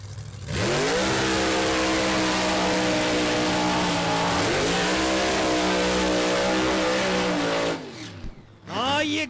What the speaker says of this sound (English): Side by side smoky burnouts.